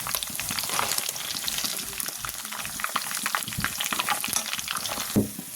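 Fish fries in hot oil with continuous bubbling and crackling sizzle, close up, and a brief clatter near the end.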